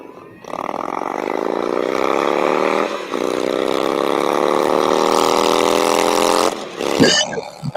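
A small Indian engine runs loud and close, its pitch climbing steadily as it revs for several seconds, then it cuts off into a brief clatter and a voice.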